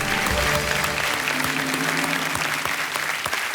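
A studio audience on a TV quiz show applauds, a steady burst of dense clapping from a full crowd that lasts a few seconds with no speech over it.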